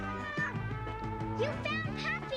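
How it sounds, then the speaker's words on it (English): A kitten meows several times close by, high plaintive cries in quick succession over a soft background of speech and music from a G.I. Joe cartoon. "I heard her meowing."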